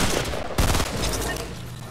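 Rapid gunfire in Fortnite Battle Royale cracks in close, loud bursts of shots, with one sharper blast partway through.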